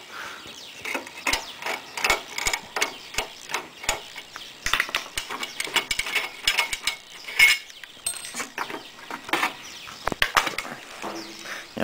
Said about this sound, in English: So I'll just pull the air cleaner off and see what it looks like in there